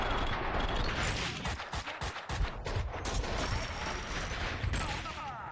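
Dense, loud gunfire from the video game Max Payne 2, rapid overlapping shots and bursts that keep going for several seconds with almost no break.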